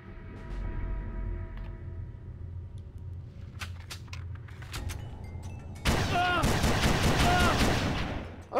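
Rapid bursts of gunfire from the Red Faction video game, loud clustered automatic shots that intensify into a dense volley near the end, with a few sharp cracks earlier.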